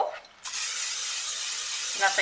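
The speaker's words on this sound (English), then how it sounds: "now I'm going to spray a bowl." A steady hiss of cooking spray from an aerosol can into a plastic bowl, starting abruptly and running continuously for about two seconds, fairly close.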